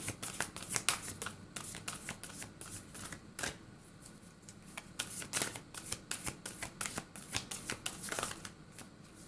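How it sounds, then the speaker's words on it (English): A deck of Spirit Animal Oracle cards is shuffled by hand, quiet crisp riffling bursts repeating in an irregular rhythm at close range, with no voice. "let's go ahead and pull a Spirit Animal Oracle card"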